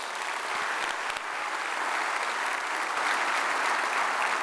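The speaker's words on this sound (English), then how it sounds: "Let's give the ILA a round of applause" Sustained applause from a large crowd at the 2019 Savannah State of the Port Address, dense steady clapping throughout with no voices standing out.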